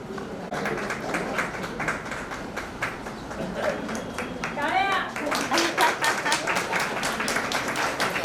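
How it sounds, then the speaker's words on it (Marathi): Audience applause at a Foundation Day celebration, steady clapping from a crowd continuing throughout, growing denser and louder in the second half. "हो, टाळ्या थांबल्या नाही पाहिजे बघा"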